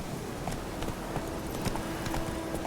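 Horse hooves clip-clop at a steady walking rhythm in The Witcher 3 video game, moderately close over a constant ambient bed of game sound.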